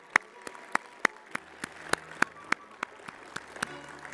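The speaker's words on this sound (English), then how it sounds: "So give us applause for him, please." A few people at an ASCE geotechnical conference clap for a speaker, sharp single claps spaced about every third of a second, sparse and moderately close against a faint room hum.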